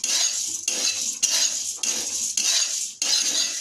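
Flattened rice being stirred as it dry-roasts in a pan, heard as steady, close scraping and clinking strokes of a utensil repeating about every half second over a continuous hiss.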